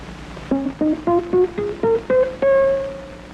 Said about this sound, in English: A sort of muffled sound can be made by first damping the strings with the side of the right hand.